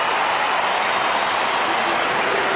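A football crowd at Docklands roars loudly and without a break from behind the goal during a Swans versus Kangaroos game. The broad, dense cheering swells over the whole stretch.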